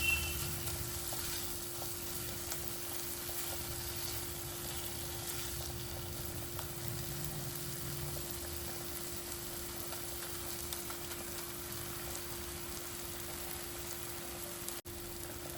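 Continuous crackling sizzle of a tadka of spices frying in hot oil for dal, steady and close throughout, with a low hum underneath.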